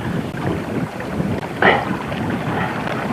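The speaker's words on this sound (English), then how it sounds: "Just you keep it sailing, Hillary" Wind rushes steadily past a sailboat at sea during a harbour classic race in Otago, with broadband wind noise over the microphone and a brief brighter splash or flap near the middle.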